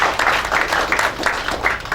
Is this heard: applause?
yes